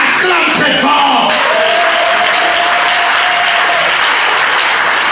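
A church congregation at a French-language worship service bursts into loud, sustained applause and cheering, dense crowd noise filling the whole stretch with shouts rising above it.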